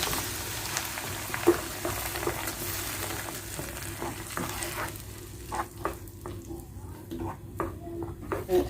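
Chopped tomatoes hitting softened onions in a frying pan for an economical potato and aubergine dish, a steady loud sizzle with stirring scrapes and light utensil clicks throughout.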